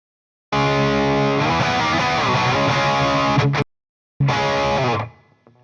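Heavy distorted electric guitar through a tube amp plays chunky palm-muted rhythm riffs, loud and close, stops abruptly, then returns briefly before ringing out.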